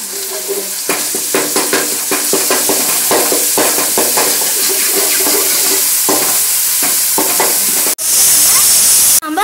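Cauliflower manchurian frying with tomato and paste in a pan: a constant sizzle broken by repeated stirring scrapes and clacks, then a louder burst of hissing near the end.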